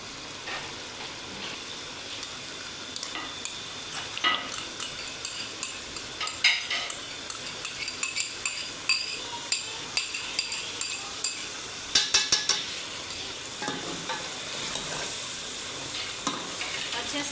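Cream-enriched white chicken karahi being stirred in a pan over low heat: a soft continuous sizzle with repeated spoon scrapes and metallic clicks against the pan, clustering into a quick rattle near the end, no voices.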